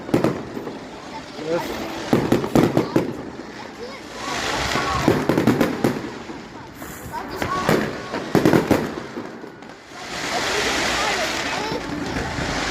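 Bonfire Night fireworks explode in Mansfield, UK, as a series of loud cracking bursts and crackling bangs in open air, arriving in clusters between rushing, hissing stretches, with people talking now and then.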